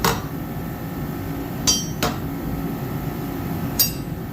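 Large Pittsburgh wrenches clink into a wrench organizer with a few sharp metallic taps spaced over several seconds, close and fairly clear against a steady background hum.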